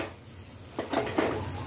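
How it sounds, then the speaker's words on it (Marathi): A kadhai of Konkan river fish curry is lifted and tossed instead of stirred, giving a few quiet metallic clanks and a soft sloshing shuffle of the pan in a kitchen. "चमच्याने न हलवता अशी कढई उचलून या पद्धतीने हपकून घ्यायचे"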